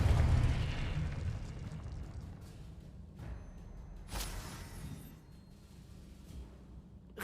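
Confringo spell blast in Hogwarts Legacy, a loud booming explosion at the start that rumbles away, followed by further sharp bursts and whooshes over a low sustained drone.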